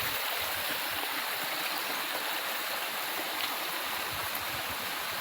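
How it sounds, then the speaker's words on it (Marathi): A mountain spring stream flows steadily in the countryside after the rains, a constant close rushing and babbling of water with no breaks. "इथं पण एक झरा आहे"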